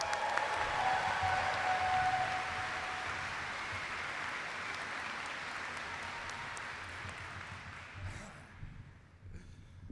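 A graduation audience at a spring business school celebration breaks into sustained applause that gradually fades out, with a faint tone and a few scattered claps at the end.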